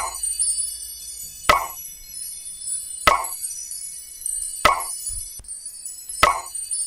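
Preview of a long atmospheric sound effect from a free FX pack: sustained airy high tones and a low bed, punctuated by four sharp plopping hits at even intervals, each with a short midrange swell.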